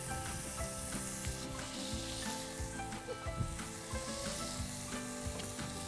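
Tomatoes sizzle hot in a pan for tomato rice, a steady dense crackle of frying close up with faint stirring scrapes, no voices.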